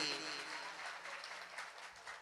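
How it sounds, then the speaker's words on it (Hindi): Devotees at a Bhagavat Katha religious gathering in Sonipat clap for a couple of seconds, a faint, distant patter of many hands in a large space. "एक बार जोर ताली आप सभी भक्तों के लिए।"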